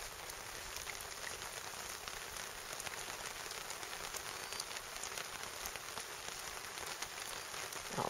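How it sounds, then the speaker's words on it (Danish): Steady rain pattering on a tarp shelter during a fishing trip on an island, a dense, even patter of drops held at a soft level throughout with no talking. "Det moro med regnvær."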